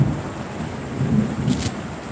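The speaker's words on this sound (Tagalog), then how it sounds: "ang lakas ng ulan" Heavy rain pours steadily over a home garden and terrace, with a low rumble of thunder building underneath; the wash of sound is loud and close, with no voices.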